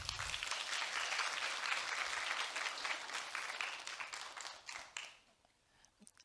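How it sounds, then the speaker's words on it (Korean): A lecture-hall audience at a Korean humanities talk applauds to welcome a photojournalist speaker, with full, even clapping that thins and fades out over the last second. "큰 박수 부탁드립니다"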